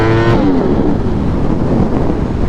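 A motorcycle ridden only in first gear holds its engine near redline, a loud, close, sustained high-revving drone with a brief pitch dip at the start.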